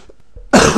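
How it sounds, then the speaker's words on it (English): A man gives one short, harsh cough close up, after a few faint breathy sounds. "Must stop coughing and spluttering and generally making horrible voice noises on my videos"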